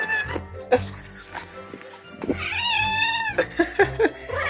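A cat meows and caterwauls repeatedly up close, a long drawn-out rising cry in the middle with shorter meows around it, while people talk intermittently.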